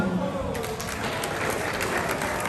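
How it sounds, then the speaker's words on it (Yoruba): A crowd breaks into applause, many hands clapping together in a dense, steady patter. "Ẹ pàtẹ́wọ́ fún wọn."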